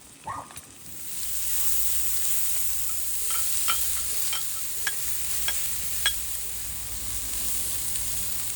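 Mussels and other seafood sizzle steadily in a paella pan over heat, a continuous close frying hiss with occasional sharp pops and crackles and a brief stir or clatter at the start, with no talking.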